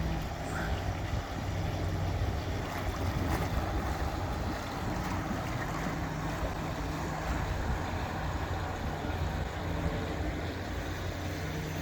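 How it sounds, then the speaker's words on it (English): Constant rushing, churning water from a swimming pool return jet flowing into a hose, a dense wash of noise without pause from start to finish. "If you hold it in front of the return, it's going to fill that up with water"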